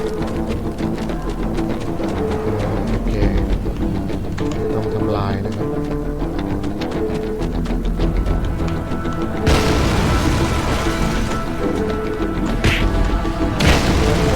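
Booming explosions in Miami Vice: The Game burst over a dense soundtrack, with a big blast about two-thirds through as a car blows up, followed by another sharp crash near the end.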